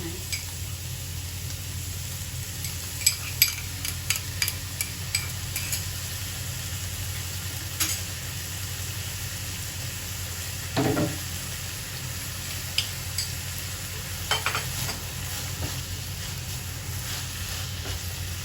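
Shrimp and baby corn stir-frying in a pan with seasoning sauce, a steady soft sizzle throughout with scattered scraping clinks of a spatula tossing the food, no talking.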